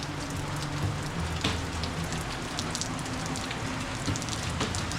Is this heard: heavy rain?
yes